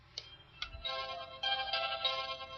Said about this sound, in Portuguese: a gente ouviu o telefone tocando lá dentro